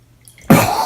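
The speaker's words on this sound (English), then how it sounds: "Now I'm going to dump in 1/4 cup of water." Water poured into a bowl of glue while making slime: a quiet lead-in, then a sudden loud, steady splashing pour that continues to the end.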